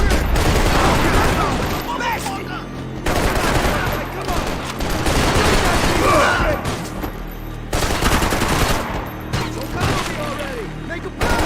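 Rapid bursts of gunfire from the Max Payne 3 video game, dense loud volleys recurring across the span with brief lulls, mixed with shouted voices of characters talking over the shooting.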